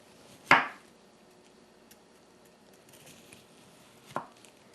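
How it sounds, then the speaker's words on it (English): A sharp knife slices through firm ice cream on a board, with one crisp, loud cut followed a few seconds later by a second, softer cut and faint handling noise in between. "I'll use a sharp knife and cut it to be about 3/4 of an inch thick"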